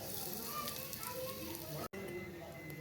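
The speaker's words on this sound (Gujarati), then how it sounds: "હવે આપણે એમાં રાઈ, જીરું, લાલ મરચું નાખી દઈશું" Mustard seeds, cumin and asafoetida crackle and hiss in hot oil for a tempering. The close, continuous sizzle cuts out abruptly for an instant near the end, then resumes.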